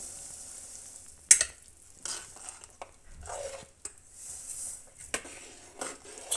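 Semolina (rava) being stirred into boiling water on a high flame for upma, with soft bubbling, faint sizzling and intermittent scrapes and clinks of a spoon against the pot, quiet and close.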